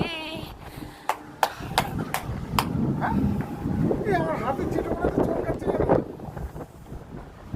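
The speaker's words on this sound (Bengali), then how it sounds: "কি বৃষ্টি, ঝড় উঠেছে।" A strong windstorm with rain buffets the microphone in loud gusts and rumbling roar, with several sharp cracks early on and someone talking over it.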